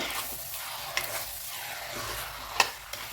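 Kerala-style chicken roast being stirred in a hot pan, a soft steady sizzle with a couple of sharp scraping clicks from the spoon, close and fairly quiet with no talking.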